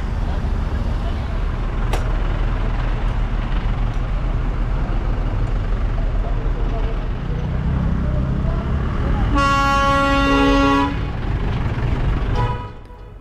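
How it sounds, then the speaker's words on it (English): Darjeeling Himalayan Railway toy train reversing into a dead-end station across a busy road, a steady rumbling engine and traffic din with a loud, sustained horn blast near the end, close and dominant over the background noise. "our southbound train needs to pull past the junction, change the points and reverse across a busy main road into the dead-end station"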